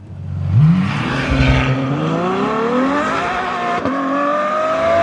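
A Ferrari F12 with its V12 engine at full throttle in race mode, wheels spinning, gives a loud, close howl that climbs steadily in pitch toward high revs.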